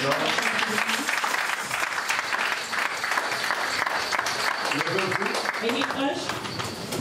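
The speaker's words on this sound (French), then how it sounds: "Acclamons la parole du Seigneur" Applause from a church congregation fills the space continuously and evenly at moderate loudness, a dense patter of many hands with some voices mixed in.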